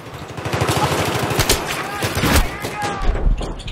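A grenade blasts in a tactical shooter match among players, with a burst of gunfire first and a sharp explosion around midway while teammates talk over it.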